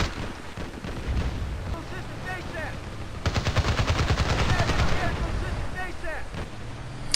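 Rapid automatic gunfire from an engineer weapon rattles in the shooter game Battlefield Play4free, bursts of sharp shots stacking up over a noisy battlefield background with a louder, denser stretch in the middle.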